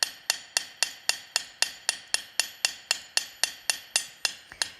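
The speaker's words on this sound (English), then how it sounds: "you can see how I'm moving my hammer around." Hammer forging bronze links, a steady run of about twenty sharp metallic strikes at an even pace, each ringing briefly before the next, close and clear with no talk.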